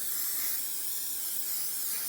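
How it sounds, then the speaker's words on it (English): Buttery cooking oil sprayed lightly onto baguette slices in a home kitchen, giving a steady, soft, close hiss that lasts throughout with no talking. "Just gonna lightly spray them with this butter."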